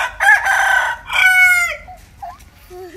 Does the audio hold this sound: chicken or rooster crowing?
yes